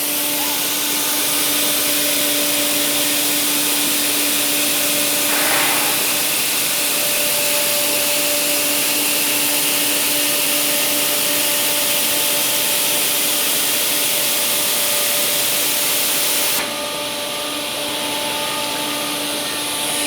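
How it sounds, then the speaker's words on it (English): A nesting CNC machine running and travelling to its tool sensor to measure, producing a loud, steady mechanical whir with a sustained whine that shifts in tone near the end. "the machine will go to the tool sensor position"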